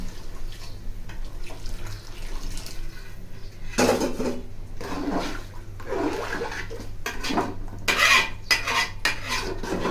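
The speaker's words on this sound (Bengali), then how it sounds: "ভালো মতো নেড়ে নিতে হবে" Fried pulao rice with hot water poured in is stirred in a pot, giving scraping and clinking of a spoon against metal over steady bubbling and sloshing water.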